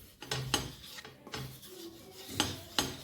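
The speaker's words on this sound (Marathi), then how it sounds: "तेल आपल्याला व्यवस्थित तव्यावरती पसरून घ्यायचं आहे।" Oil being spread across a hot griddle pan, a few soft rubbing scrapes spaced apart in a quiet kitchen, close and alone.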